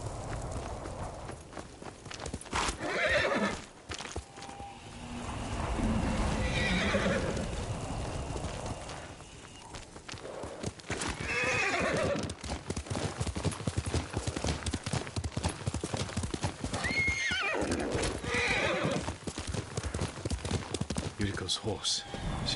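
A horse in the video game Ghost of Tsushima whinnies several times while its hooves clip-clop, with loud snorts and movement noise over a rumbling background.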